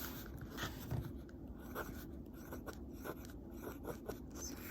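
A Lamy Safari fountain pen nib writing on paper with a slightly finicky, scratchy feel, heard close up as a continuous rasp broken by short strokes, with no talk.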